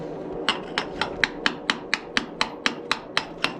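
Metal tool striking and scraping rock along a vein inside a Colorado gold mine, about a dozen sharp evenly spaced blows in a steady rhythm, close and clear with no talking.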